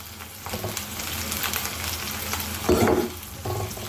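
Small tomatoes and ivy gourd pieces frying in a pan, with continuous close sizzling and a louder scrape or stir of the pieces near the end.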